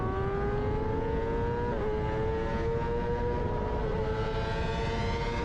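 Kawasaki ZX-10R and BMW S1000RR sport motorcycles in a drag race, engines screaming at high revs with a loud, steady rising whine and brief dips at gear shifts.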